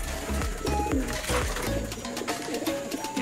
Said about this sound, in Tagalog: ito yung mga pang south natin mga kalapatids sa'yo